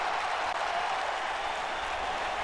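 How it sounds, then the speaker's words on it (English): A wrestling event crowd roars and applauds in a dense, steady wash of cheering that stays loud throughout. "Look at the crowd going crazy."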